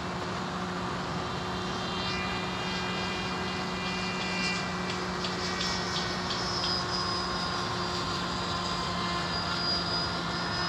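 An AR Wing Pro FPV wing in flight, its electric motor giving a steady, continuous whine with a faint rising tone, heard close and loud from onboard with no voices.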